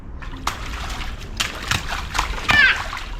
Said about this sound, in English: Show me how you splash.